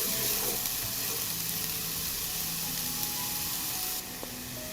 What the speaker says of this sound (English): I add onions to the heated oil. I fry for a short time,